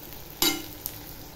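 Chopped tomato dropped into a pan of onions fried pink for upma, a sudden sharp sizzling burst that quickly fades to a soft hiss, with a small clink after.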